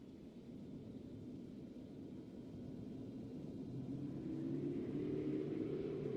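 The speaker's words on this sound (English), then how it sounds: "As you can see, the engine sounds more real." A steady low aircraft engine drone from a Roblox flight simulator game, a synthetic-sounding hum that swells gradually and rises slightly in pitch toward the end, with no voices.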